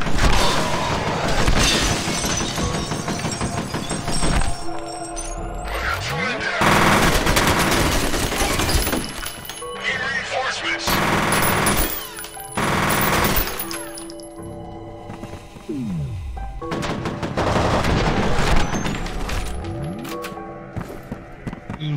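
Shotgun blasts and chaotic firefights in the shooter game F.E.A.R., loud and close, arrive as repeated heavy bursts with shattering debris, separated by short lulls.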